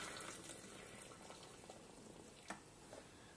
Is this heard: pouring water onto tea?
yes